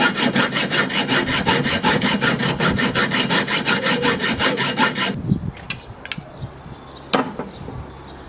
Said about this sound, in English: so next part is to trim off these pieces, and this saw's probably rubbish,